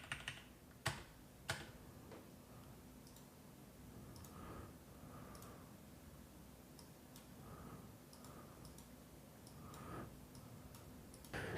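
Quiet keystrokes on a computer keyboard while PHP code is entered on a Windows 10 machine, a few sharper clicks early on, then soft scattered taps over a steady background hiss.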